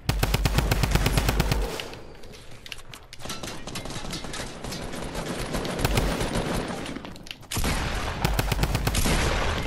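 A drum gun in Fortnite fires in long rapid automatic bursts, loud and close, with short pauses between volleys and sustained gunfire throughout.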